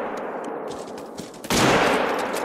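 A single loud, close gunshot from a hunting rifle fired at a buffalo in the Call of the Wild hunting game. It cracks sharply after a quieter ambient stretch, then rings and decays across the rest of the moment.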